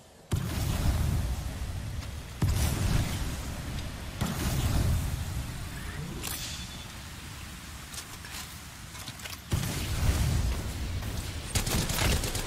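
Gunfire in the video game Apex Legends: bursts of automatic fire come in dense, noisy volleys, loud and close, with short breaks between clusters and a steady crackle throughout.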